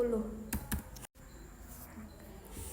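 Fast keyboard typing while a spreadsheet formula is entered on a computer, with a few sharp key taps and a firm press standing out above a quiet room background.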